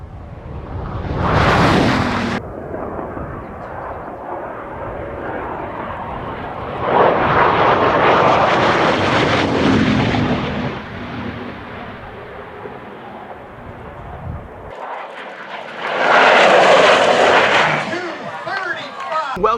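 A Bugatti supercar at top speed roars past in loud, jet-like surges, its engine and wind noise swelling and fading several times, with bursts of clipping between passes.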